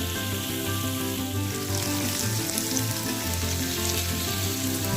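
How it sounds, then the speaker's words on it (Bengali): Potatoes frying in oil with fenugreek and mustard seeds, a loud, close, continuous sizzle with a low steady hum beneath, unbroken throughout and free of any talk. "মেথি আর সর্ষেটাকে ভালো করে ভেজে নিয়ে দিয়ে দিচ্ছি আলু"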